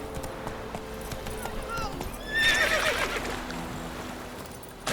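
Roach the horse from The Witcher 3 whinnies loudly and gallops with clip-clop hooves while jumping, the neigh rising midway over continuous hoofbeats and game ambience.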